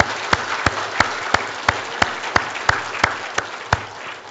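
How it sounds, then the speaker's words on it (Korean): A church congregation claps for its choir, a steady background patter of applause punctuated by sharp, evenly spaced single claps ringing out about three times a second. "우리 오늘 찬양대 모두 다시 한번 격려 박수 합시다."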